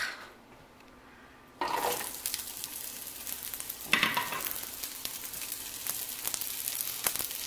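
Onion hits a hot pan and sizzles loudly, with crackling bursts and stirring scrapes continuing steadily after a quiet start.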